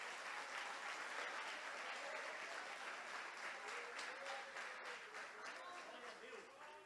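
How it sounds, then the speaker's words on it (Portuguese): A church congregation at an evening service applauds, a broad, even hiss of many hands clapping at a distance that fades gradually, with faint voices mixed underneath. "Você consegue aplaudir ao Senhor pela sua palavra agora?"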